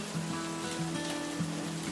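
Rain falling at a railway station platform, a continuous hiss of water with faint rhythmic low thumps recurring underneath and no one talking.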